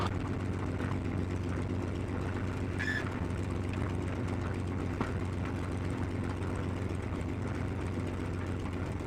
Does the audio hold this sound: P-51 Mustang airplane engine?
yes